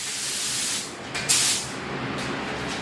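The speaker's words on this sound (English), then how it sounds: "Everything's sprayed real nice, lightly." Gray primer paint sprayed lightly over car parts on a Nova, a steady broad hiss throughout with a brief louder burst partway through, close and without talk.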